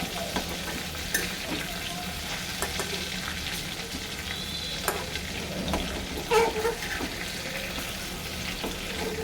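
Live river tangra fish fry in hot oil, giving a continuous close sizzle with occasional stirring clatters, the loudest around two-thirds through.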